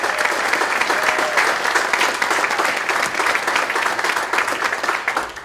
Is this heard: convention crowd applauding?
yes